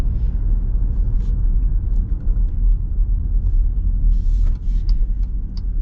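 A 2024 Jeep Grand Cherokee Summit 4xe in sport mode gives a steady, low rumble from inside the cabin as it accelerates, with a few light clicks and rustles near the end.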